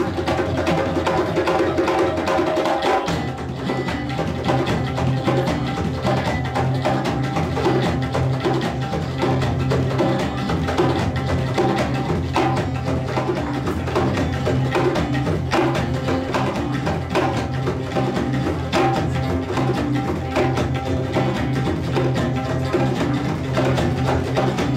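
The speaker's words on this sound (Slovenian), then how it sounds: "v kateri je moč slišati zvoke indijske table, afriških džemb, perujskega kajona, flavte, didžeriduja in kitare." An acoustic ensemble of Indian tabla, African djembes, Peruvian cajon, flute, didgeridoo and guitar plays a steady, dense groove with continuous hand-drum pulses under sustained drone and melody, loud and close with no talking.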